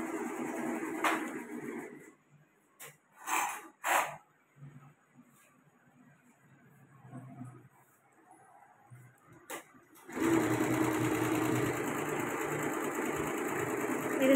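A sewing machine runs in short stop-start bursts, then settles into a long steady whirring run near the end, close by with no one speaking.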